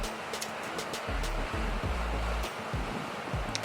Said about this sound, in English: we're right on the shores of a big lake and the wind traveling across the lake